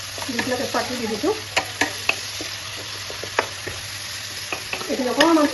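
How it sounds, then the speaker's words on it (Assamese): Bay leaf sizzles in hot oil while a utensil scrapes and taps the pan, a soft continuous fry broken by sharp stirring clicks and a few brief voice sounds. "দি পেলাই তেজপাতটো দি দিছোঁ"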